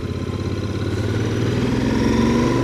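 A Royal Enfield Interceptor 650 motorcycle's twin engine runs close by in a steady, smooth low throb that rises slightly as if revving gently, with no voices.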